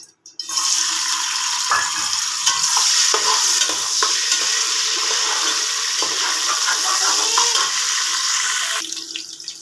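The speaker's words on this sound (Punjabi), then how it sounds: "ਤੇਲ ਹੋ ਗਿਆ ਆਪਣਾ ਗਰਮ ਤੇ ਹੁਣ ਆਪਾਂ ਇਹਦੇ ਵਿੱਚ ਇਹ ਦੋਨੋਂ ਚੀਜ਼ਾਂ ਪਾ ਲਾਂਗੇ ਪਹਿਲਾਂ ਅਦਰਕ ਪਾ ਲਾਂਗੇ ਫਿਰ ਆਪਾਂ ਪਿਆਜ਼ ਪਾ ਲਾਂਗੇ" Ginger hits hot oil for an aloo gobi tempering and erupts into a loud, dense sizzle that holds steady for several seconds with a few light stirring knocks before dropping away.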